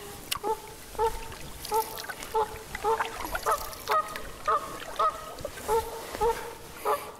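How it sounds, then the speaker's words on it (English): Wood ducks call out on the water on a spring paddle, a series of repeated honking squeals spaced about half a second apart, moderately close and clear over quiet background. "Three wood ducks over there"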